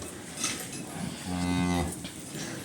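A three-week-old calf gives one drawn-out moo close by, rising over quiet background rustling and faint noises.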